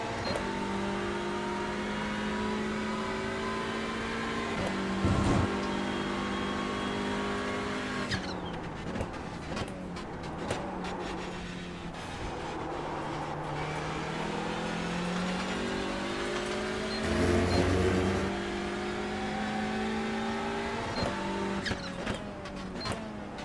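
A race car laps Daytona with a loud, continuous engine note that rises and falls through gear changes and throttle lifts, sustained and close throughout with no voices.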